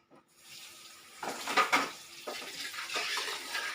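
Catfish curry with eggplant is stirred in a pot, a ladle scraping and swishing through the liquid in several uneven bursts, close by and moderately loud, with no voices.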